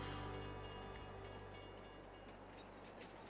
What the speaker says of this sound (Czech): Ale tak on nám tady ten vlak nakonec přece jenom jezdí.